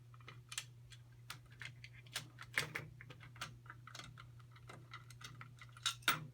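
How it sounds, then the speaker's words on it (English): Cross-head screwdriver loosening the screws on the cover of a Redline embroidery machine, heard as a dense run of small metallic clicks and ticks over a steady low machine hum, close and fairly quiet. "So with a screwdriver, a cross screwdriver, we're going to loosen the screws that are right here"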